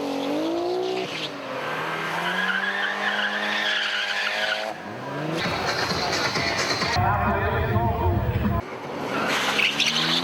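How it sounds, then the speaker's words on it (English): A drag race car does a burnout to warm its tyres, with a loud engine revving in rising pulls and tyres screeching and roaring, broken by brief pauses, as a commentator talks over it. "Car number 917 warming up the tyres."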